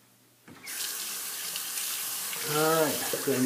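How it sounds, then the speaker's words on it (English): A tap is turned on for washing the face, starting a steady close rush of running water that continues to the end, with a voice briefly heard over it near the end. "Alright, so I just wash my face off."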